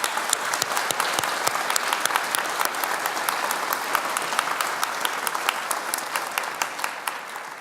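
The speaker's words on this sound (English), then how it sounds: "Let's give every one of our students a round of applause." A large audience gives a sustained round of applause for graduating students at a university commencement ceremony in Idaho Falls, a dense, even roar of clapping that holds steady from start to finish.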